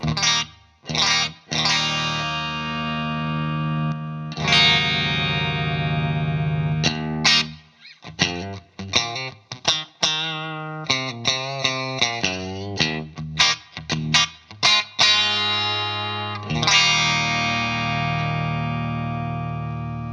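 Electric guitar through a Vahlbruch Quantum Opto compressor/sustainer pedal plays a run of chords and quick picked notes, sustained and smooth with a slightly darker, squeezed tone and no talking.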